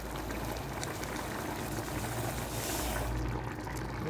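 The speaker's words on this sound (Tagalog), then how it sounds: "kumukulo na ang ating mixture na tubig at coconut" A mixture of coconut milk and water bubbles and simmers steadily with a dense, soft gurgling hiss, continuous and fairly quiet, no voices.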